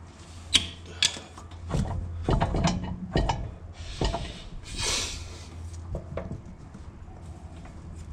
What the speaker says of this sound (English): I'm going to have to undo the ball joint